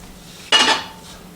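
A cooking pan gives a single short metallic clank, loud and close, as it is handled to cook peppered rice for a beef pepper rice bowl, then quickly fades in a quiet room.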